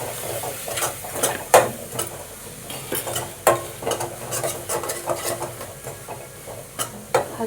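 Mung bean and spinach stir-fry stirred in a pan, a spoon scraping and clinking against the metal in irregular strokes, close up over a soft sizzle, with no talking.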